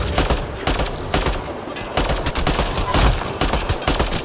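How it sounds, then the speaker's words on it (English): A Valkyrie 3 rifle fires plasma heat-seeking rounds in the Mass Effect: Andromeda video game, loud rapid bursts of shots in quick succession, dense and continuous with brief gaps, against busy combat noise. "I'm using plasma heat-seeking ammo on a Valkyrie 3"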